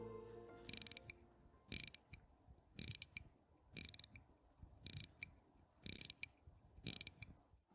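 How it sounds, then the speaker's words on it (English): Winding the crown of a vintage 1920s quartz watch, close-up rhythmic bursts of fine ratcheting clicks repeating about once a second, each a quick crisp mechanical burr. "let's check out how the winding crown sounds."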